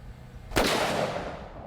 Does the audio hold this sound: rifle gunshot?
yes